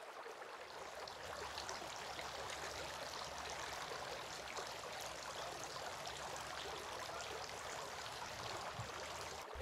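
Water runs in a faint, steady stream during ablution while the face is washed, a continuous soft rushing with no clear breaks.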